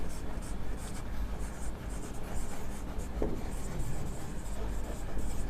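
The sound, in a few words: writing a summary on a board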